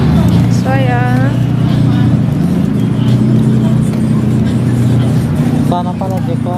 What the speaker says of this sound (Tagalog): Ang ingay talaga ng mga sasakyan